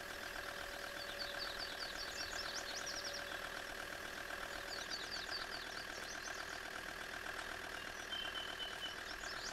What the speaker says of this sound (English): Just park your tractor here and then detach